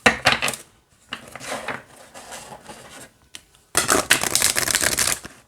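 Oversized, flexible cardstock oracle cards being shuffled by hand in bursts of crisp riffling and flapping, close and fairly loud, with short pauses between rounds.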